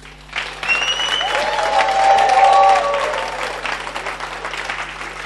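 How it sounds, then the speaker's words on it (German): An audience at a state party convention of the Pirate Party in Lower Saxony breaks into sustained applause, building quickly to a full, dense clapping that stays strong before easing slightly, with some voices mixed in. "denen könnt ihr auch einen Applaus geben"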